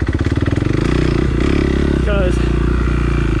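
4-stroke dirt bike on a rough singletrack trail, its engine chugging unevenly and sputtering as it stalls, close by, with a rider speaking over the idle.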